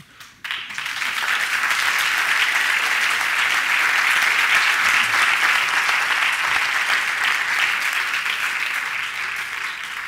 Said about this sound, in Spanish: vamos de vuelta con ese aplauso